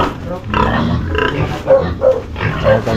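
Pig grunting close by, a series of short, low, rough grunts in uneven rhythm over about three seconds, with some muffled background sounds and no clear talking.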